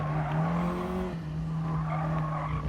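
Ford Focus ST braking hard in Gran Turismo Sport, a sustained loud tire squeal over steady engine drone as the car skids into a downhill S-curve.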